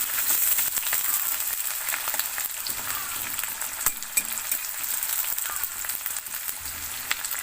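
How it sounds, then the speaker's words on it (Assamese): Pork pieces sizzle steadily in a hot pan while being stirred, a continuous bright crackle with occasional scraping clicks and no talk, Assamese-style pork with lai greens cooking. "এইখিনি ভালদৰে ৰঙচুৱা হোৱালৈকে আমি ভাজি থাকিম।"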